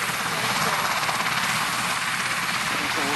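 An RAF Sea King search-and-rescue helicopter flies during an air display at Waddington, its loud, steady rotor chop and turbine roar continuous and close throughout.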